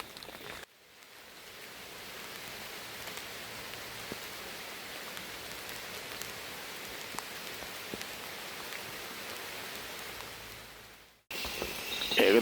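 Heavy rain pours steadily over a forest, a dense unbroken hiss of drops on leaves and surfaces that holds loud and even for most of the stretch, with a brief dip before it resumes.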